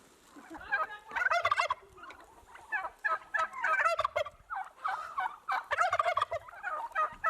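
Turkeys gobble in rapid, warbling bursts, several birds calling over one another at moderate distance.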